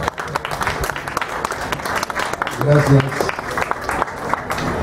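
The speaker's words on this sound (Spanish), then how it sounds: "Así es que vamos a brindarle un aplauso" Applause from an audience greets a speaker at a public gathering. Steady clapping rolls on while a voice speaks over it and gives brief thanks.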